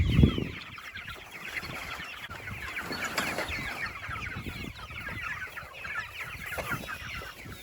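A flock of about 100 broiler chickens cluck and chatter continuously, fairly close, with no one speaking.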